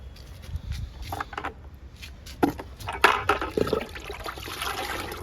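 Liquid fertilizer pours onto potted flowering plants, a soft splashing trickle with a few brief louder gushes, close and fairly quiet, with no talking.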